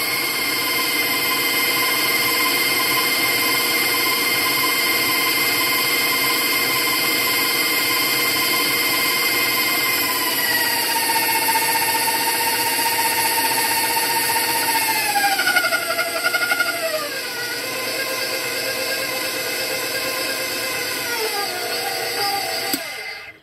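A stand mixer runs steadily at high speed, first on setting 2 and then cranked to 6, beating cookie dough. It gives a loud continuous whirring motor drone whose pitch slides downward partway through and holds to the end, with no talking.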